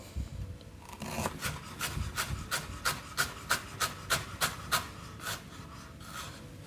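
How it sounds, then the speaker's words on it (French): Ginger is chopped on a board with a knife, giving a quick run of about a dozen evenly spaced, crisp close-up strikes that speed up and then stop, without any talk. "on va venir hacher le gingembre"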